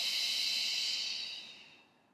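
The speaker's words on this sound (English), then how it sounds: "Big exhale." A big, breathy exhale during a stretching session, one long hissing out-breath that is close and fairly quiet and fades out over about two seconds, with no talk.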